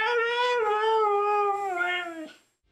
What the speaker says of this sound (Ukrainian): Пес на ім'я Мішка дуже добре співає